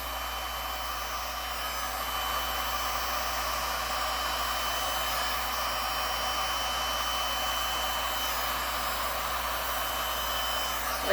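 A steady, even rush of blown air pushes white resin paint across a tile in a Dutch pour, a constant close hiss with a low hum that holds unchanged for the whole stretch.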